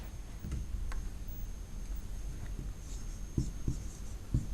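Pen or chalk writing during a Hindi-language class 9 science lesson, faint scratching strokes and soft taps over a steady room hum, close by and quiet, with no voices.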